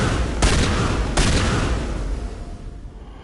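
Two heavy blasts of gunfire and explosions from the video game Mass Effect Legendary Edition boom out one after another, then a long rumbling tail slowly fades, loud and up front with no voices.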